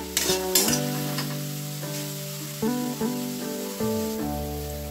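Jujubes cooking down in a pan as the last of the water dries off, a close steady sizzle and hiss with a few stirring scrapes, no voices.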